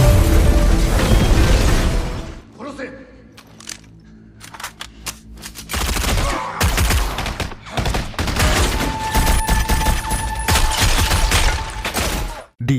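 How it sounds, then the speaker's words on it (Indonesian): Loud gunfire in a Jackie Chan film shootout at a Macau police station, dense rapid bursts and single shots with brief lulls between volleys. "Di tengah aksi baku tembak"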